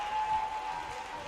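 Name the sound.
wrestling crowd cheering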